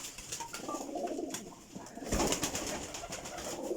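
Pigeons coo steadily in a high-flying pigeon breeding loft, soft overlapping calls repeating close by, with brief rustles and a louder burst of activity midway.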